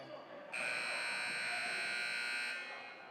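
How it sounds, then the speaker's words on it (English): A loud, steady electronic buzzer at a high school summer league basketball game sounds for about two seconds, a sustained harsh tone over crowd noise, then cuts off. "That's the buzzer on that side."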